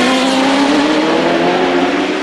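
Race car engine at the 2004 Spa 24 Hours, with Ferrari 550 and 575, BMW M3 GTR, Saleen S7-R and Porsche cars competing, a loud continuous high-revving roar with slowly rising pitch, close and unbroken.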